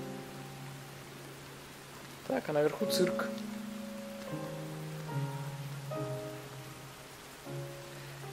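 Heavy downpour in the video game Rain: a steady, hissing wash of rain runs throughout beneath soft tonal music, with a short stretch of spoken voice in the middle.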